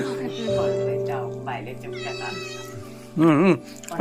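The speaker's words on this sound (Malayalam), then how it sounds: "പൂച്ച പൂച്ച" A cat meows clearly, a short rising-falling cry near the end, following steady tonal background noise and faint voices.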